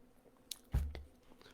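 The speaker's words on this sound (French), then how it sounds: "une petite gorgée d'eau" A small sip of water taken during a church sermon: a faint click, then a brief close, low gulping sound, with no talk.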